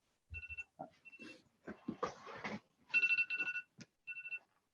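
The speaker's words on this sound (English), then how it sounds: "Sorry, that was my alarm to know that we were on." A phone alarm rings in repeated short tonal bursts, broken up by bumps and brief voices in a podcast room.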